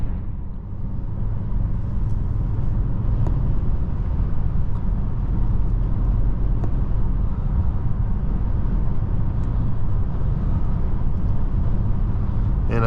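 A 2015 Audi S8 with its 4.0T Quattro engine cruising at road speed, heard from inside as a steady low engine drone and road roar with faint ticks, continuous and even throughout with no talking.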